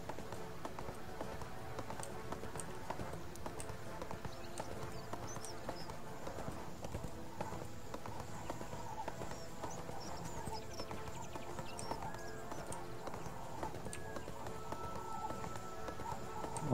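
Continuous, brisk hoofbeats of a donkey mount trotting in ArcheAge, close and even-paced throughout over a low game ambience.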